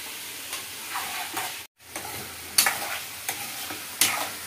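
Chicken frying in a pan for gongura chicken pickle gives a soft continuous sizzle, with several scraping stirs and one brief pause, quiet and without talk.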